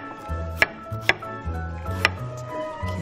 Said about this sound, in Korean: 생딸기를 활용을 할 거예요. 다 넣으면 되나요? 네네, 넣어주시면 그냥 툭툭 잘라주셔가지고요.